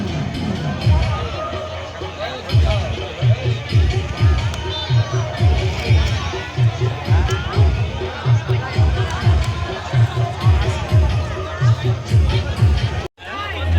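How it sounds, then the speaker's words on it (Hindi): A large crowd gathers at a river ghat during the Chhath festival, a dense hubbub of many voices with chatter and occasional shouts rising and falling, loud and close throughout. "लेकिन हमार घाट पर एखनो अहिना भीड़।"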